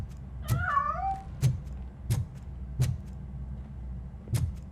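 A cat meows once early on in the game RoboCop Rogue City, a drawn-out wavering call heard alone over a low background hum punctuated by several evenly spaced thumps.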